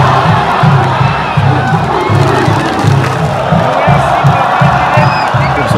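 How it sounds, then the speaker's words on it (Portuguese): Vasco football fans in a packed stadium in Santa Catarina chant insults at the referee during an away match against Marcílio Dias, a loud, continuous crowd roar with a pulsing, rhythmic chant beat. "Torcida do Vasco xingando Anderson Daronco aí, o juiz"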